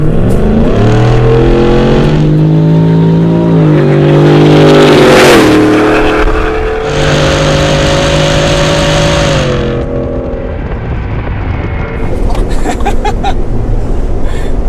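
A Hennessey HPE750 Ford F-150 Platinum truck accelerates hard onto a freeway, its engine roaring loudly through rising gear pulls with a brief shift dip, then settling into cruising road noise.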